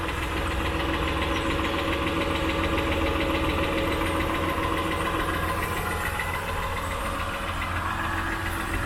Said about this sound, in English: as it progressively idles and then gets warmer, the ticking gets louder